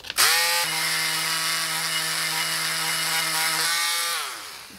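A power tool porting a TPI upper intake plenum whines up to a steady high-pitched run close to the mic, holds for about four seconds, then spins down.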